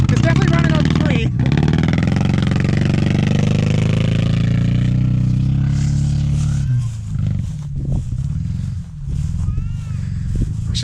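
Engine of a 1972 VW Super Beetle idling unevenly while misfiring on three cylinders, a loud, rough, low drone that dips and sputters in the second half, with people talking nearby.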